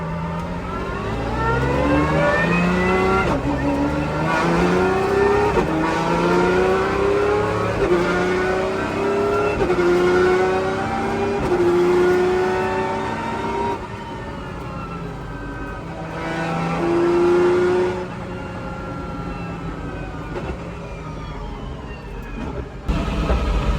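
A Pagani Zonda R supercar drives on a public road, its engine revving loudly and rising and falling through the gears in a continuous roar heard from close range.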